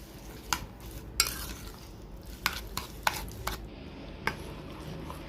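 A spoon lightly stirs a soaked chia seed mixture in a bowl, making a series of soft, scattered clinks and scrapes, close and quiet against faint background hiss.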